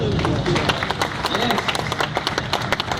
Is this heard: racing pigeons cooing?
no